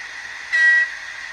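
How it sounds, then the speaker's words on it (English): A short, thin electronic toot sounds from a model train horn, brief and steady over a faint background hiss. "press the horn"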